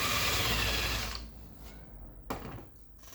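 A power drill bores a hole in a furniture panel for hidden assembly screws, whirring loudly and close for about a second before stopping. Quieter clicks and a sharp knock from handling follow.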